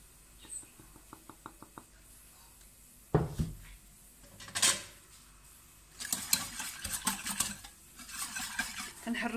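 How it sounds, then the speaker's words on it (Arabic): A cold mixture of milk, flan powder and cornstarch is stirred in a pot before heating, giving soft intermittent scraping and clinking at close range, with a few sharper knocks and a busier stretch of stirring toward the end. "كنحركو هذا الخليط مزيان على برا قبل ما نديروه في البوطه"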